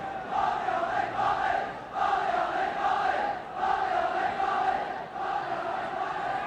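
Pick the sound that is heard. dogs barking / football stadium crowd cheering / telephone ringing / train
football stadium crowd cheering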